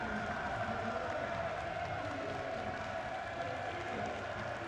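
Basketball crowd behind the Toronto bench during a timeout at an OUA men's semifinal, Toronto versus Queen's, producing a steady, diffuse roar with scattered claps and cheers, moderately distant.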